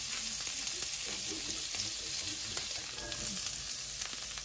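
Butter melts and fries in a pan as the base for a creamy Dijon chicken sauce, giving a constant soft sizzle with fine crackles that stays even and fairly quiet throughout.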